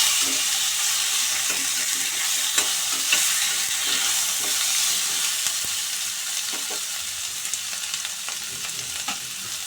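Potatoes sizzle and fry steadily in a pan for a home-style vegetarian Bengali dish, with scattered clinks and scrapes of a spoon stirring them throughout.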